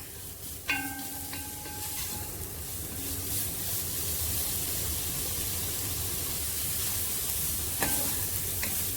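Grated carrots and sugar stirred and sautéed in a pan for carrot semiya payasam, a steady soft frying hiss with a few scraping clinks of the spoon near the start and end.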